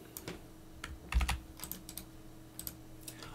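Keys clatter on a computer keyboard in short irregular bursts of clicks, heard close and fairly quiet with no speech.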